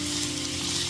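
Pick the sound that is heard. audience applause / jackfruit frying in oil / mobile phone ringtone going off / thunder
jackfruit frying in oil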